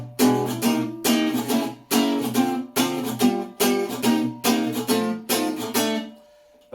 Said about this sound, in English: which is called rhythm guitar, and you can hear that it's very percussive